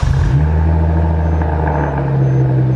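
A manual Mercedes C300 with muffler delete, resonator delete, X-pipe, quad C63 tips and a Project A tune idles with a deep, steady, loud exhaust rumble, close by and with no talk.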